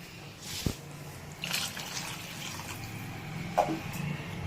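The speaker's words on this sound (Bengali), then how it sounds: "তো আমরা দেখুন দিয়ে দিচ্ছি আরও পরিমাণ জল" Water poured into a pan of Bengali charapona fish curry (teljhal) on a high gas flame: a few short splashing pours and trickles, close and moderately loud, with no talk.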